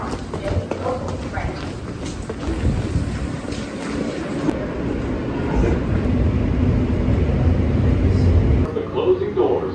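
A Manhattan-bound New York subway J local train rumbles along through a snowy Brooklyn blizzard, a continuous loud rolling roar with rattling and clattering throughout, rising slightly toward the end.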